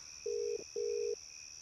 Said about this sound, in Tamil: லைன் போகுது. போட்டோம்.